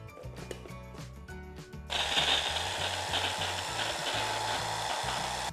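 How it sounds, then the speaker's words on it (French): Blueberries and raspberries whizzing in a kitchen blender for a red-fruit macaron filling, a loud steady whirring roar that starts abruptly after a couple of seconds of faint clicking and mechanical ticks. "nous allons mixer nos myrtilles avec nos framboises."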